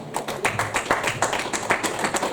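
A church congregation claps along in a fast, steady rhythm, sharp hand claps repeating close and clear over a brief stretch.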